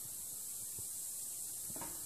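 An HHO electrolysis cell wired straight to a battery, fizzing with a steady high broadband hiss, continuous and fairly even, with a few faint low knocks underneath.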